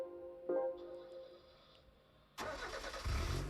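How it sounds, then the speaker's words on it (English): A car engine in Gran Turismo 5 with a van-like tone: a brief starter sound, then a quiet high hum before the engine catches into a loud, rough idle that swells near the end. "Sounds like a van engine."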